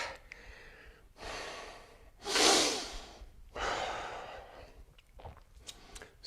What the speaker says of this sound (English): Breathing, good work.